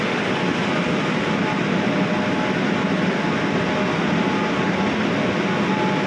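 A Kolkata East-West Metro train at a station gives a steady, loud broadband roar and rumble that holds evenly throughout, with no talking.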